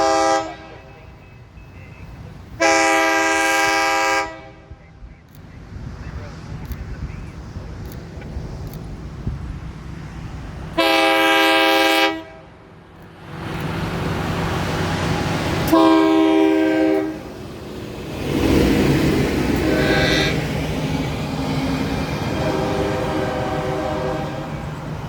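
A loud freight train horn blasts twice in long, steady tones as the heavy freight train rumbles past, its rolling roar building and lingering after the second blast.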